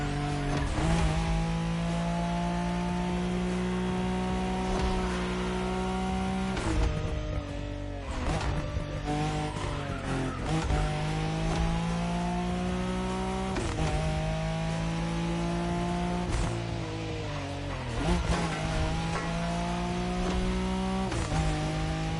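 A Nissan Skyline races in The Crew Motorfest, its engine rising in pitch then dropping at gear shifts several times, loud and close, with faint tire noise.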